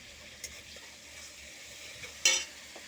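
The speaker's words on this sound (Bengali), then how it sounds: "এদিকে উচ্ছে আলু ভাজাটা হচ্ছে" Bitter gourd and potato slices fry in a pan, a steady low sizzle running throughout with a few soft stirring scrapes, the loudest near the end.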